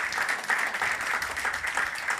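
Congregation applauding a sister at a Christian gathering, a steady dense wash of clapping with slight swells, fairly close and continuous throughout.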